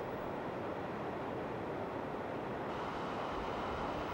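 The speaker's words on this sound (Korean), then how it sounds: "빅토리아 폭포를 천둥 소리가 나는 연기라고 부르기도 했다" The roar of Victoria Falls in Zimbabwe, a steady, even wash of broadband rushing noise that holds without break, moderately distant and heard alone.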